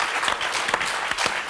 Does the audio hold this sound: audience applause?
yes